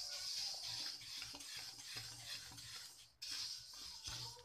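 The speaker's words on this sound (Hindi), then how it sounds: "इसको हम भून लेंगे। देखिए चिट चिट की आवाज हो रही है।" Husked desi sesame seeds dry-roasting in a pan for laddoos give off a soft hiss with light crackling and the scrape and clink of a stirring spoon, in short bursts with a brief pause.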